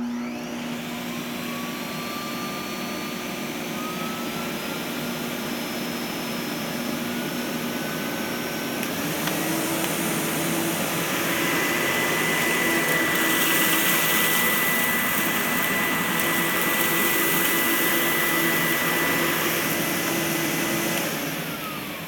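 An Electrolux Aptitude upright vacuum cleaner runs continuously as its settings are switched, a loud steady motor whine and airflow roar that shifts pitch and grows fuller partway through before easing slightly.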